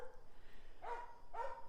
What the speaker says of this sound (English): you can hear the dogs have found another squirrel